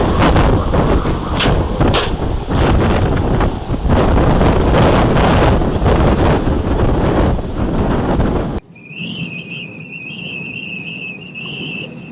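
Strong hurricane wind roars and buffets a microphone for several seconds, loud and turbulent, then cuts abruptly to a quieter scene with a steady high whistle tone.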